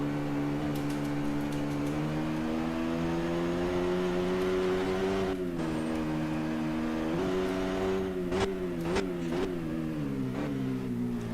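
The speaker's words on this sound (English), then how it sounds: "Probably just the sound of the engine that's weird-ish." Race car engine in an F1 video game race, holding a steady high-pitched drone with rising and falling pitch, then a few quick revs and gear shifts near the end, loud and alone without speech.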